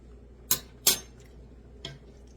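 A spoon clinks against a dish of ground turkey chili, three sharp isolated taps, two close together and a fainter one after a pause, in a quiet kitchen.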